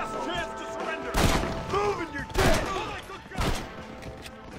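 Gunshots ring out in the Red Dead Redemption video game, three loud cracks about a second apart over in-game background sound and music, with faint talk underneath.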